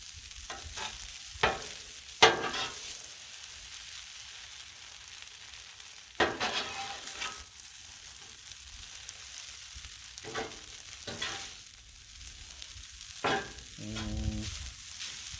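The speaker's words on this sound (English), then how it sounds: "I'm going to stir it up some more and say that supper's ready." Beef stir fry with noodles being stirred on a Blackstone griddle, a soft continuous sizzle punctuated by scattered metal spatula scrapes and clanks, no voices.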